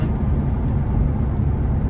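Cabin drone of a Nissan GT-R R35 cruising at 60–70, a steady low rumbling engine and road noise, moderately loud and unbroken, with no one speaking.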